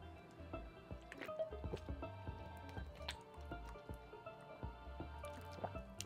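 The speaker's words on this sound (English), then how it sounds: "I'm just destroying this water bottle." A plastic water bottle is crushed and squeezed by hand, giving a quiet, irregular run of crinkling crackles and soft pops close to the listener, with no speech.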